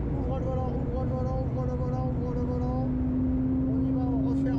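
Porsche 911 GT3 992.1 on the Spa circuit, heard from inside with a steady engine tone that climbs under acceleration while someone speaks over it.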